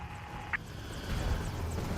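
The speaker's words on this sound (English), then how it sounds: "Helicopter collision. Impending." A helicopter in the video game Prototype flies close by, giving a steady mechanical drone with a brief higher blip early on. The drone grows slightly fuller toward the end, and there is no talk over it.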